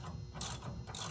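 Ratchet clicking steadily as it turns out one of two 9/16 head bolts holding a brake caliper on a classic car, a close rapid burst of mechanical clicks with a brief pause between strokes and no talking.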